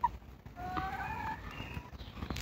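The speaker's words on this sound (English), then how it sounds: "There was a big chicken biting my tail." Chicken clucking in an animated cartoon, a few short bright clucks and a drawn-out squawk over a faint background, fairly quiet and close, with no talk.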